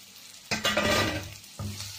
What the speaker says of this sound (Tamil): முதல்ல தக்காளி வதங்குறதுக்கு கொஞ்சமாக போட்டுக்கணும். நல்லா வதங்கி வரட்டும்.